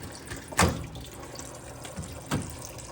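Coolant drains from a Foxbody Mustang radiator in a soft continuous trickle of liquid with a couple of splashy surges, close and moderately quiet, no talking.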